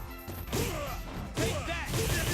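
Rapid flurry of punch hits from the Machine Gun Blow move in Super Street Fighter IV AE, two loud bursts of crashing, thwacking impacts about a second apart, with a voice talking over them.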